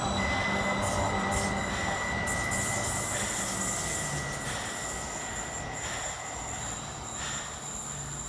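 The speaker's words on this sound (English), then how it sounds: "it's the departure of 231008, working the 1339 Transport for Welsh service and Penarth to Hengoed." A Transport for Wales Class 231 train, unit 231008, departs Hengoed station with a steady rail rumble and high, sustained wheel squeal, fading slightly as it pulls away.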